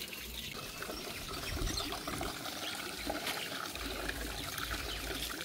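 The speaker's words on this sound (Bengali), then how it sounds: "তো আস্তে আস্তে ধুয়ে নেওয়া হচ্ছে চিংড়ি, যেহেতু নরম, বেশি আবার নাড়াচাড়া করলে খুলে যায়।" Raw prawns being rinsed gently by hand in water, a steady soft trickle and slosh of liquid running throughout, close and continuous with no talking.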